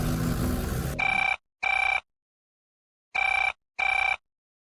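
A telephone rings in two pairs of loud, bright electronic trills, each burst about a third of a second, with a short pause inside each pair and a longer silence between pairs, after a brief stretch of background sound.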